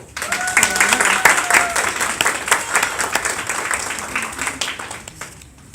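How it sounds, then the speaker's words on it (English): Sustained audience applause at a teen girls' conference, steady clapping from a crowd filling the room, fading slightly toward the end. "Can we give her a round of applause?"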